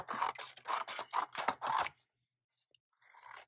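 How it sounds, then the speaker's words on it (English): Scissors cut strips of green paper for a hyacinth flower craft: about six crisp, rhythmic snips up close, followed by near silence and a faint rustle. "once I've cut my three strips"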